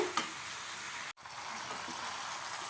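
Country chicken, soaked beforehand in salt, chili powder and turmeric, is stirred in a pan with a steady wet sizzling hiss, a single brief gap cutting the sound midway before the mixing continues.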